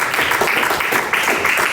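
A church congregation applauds during a sermon, a dense, loud wash of many hands clapping that continues steadily through the short stretch, close and filling the room.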